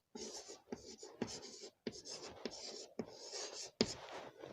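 Pen or pencil writing on paper up close, quiet scratchy strokes coming in short bursts separated by brief pauses, with no other sounds.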